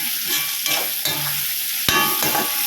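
Tomatoes fry for sambar in a pan, a dense close sizzle with repeated spatula scrapes and stirring knocks, and no talking.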